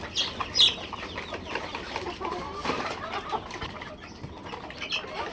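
Chickens cluck and flap their wings in a coop or yard alongside a black hill-breed rooster; scattered clucks and sharp calls come near and moderately loud, with bursts of wing flapping throughout.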